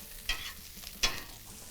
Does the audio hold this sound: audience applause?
no